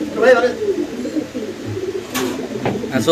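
Soft coos from Lahori pigeons and their chicks blend into nearby conversation, with a low, murmuring bird call running under the voices throughout.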